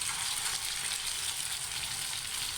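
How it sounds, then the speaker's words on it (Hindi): Chicken kofta balls frying in hot oil give a steady, close, even sizzle throughout, with no voices. "अब एक एक करके कोफ्ते को आराम से इस ऑयल में डालें ताकि कोफ्ते हल्के से ब्राउन कर हो जाएं"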